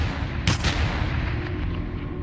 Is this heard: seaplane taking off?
no